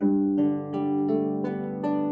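A chord or sequence of sustained notes on a melodic instrument, resolving to a G, played at a Celtic Christmas workshop; several clear plucked or struck onsets ring out in steady succession with no talk over them.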